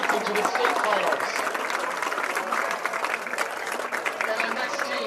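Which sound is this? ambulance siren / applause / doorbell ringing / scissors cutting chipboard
applause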